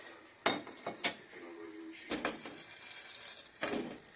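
A few sharp clattering impacts of popcorn kernels landing in a hot oiled metal pan, two quick hits then a scattered rattle and a final burst, fairly close.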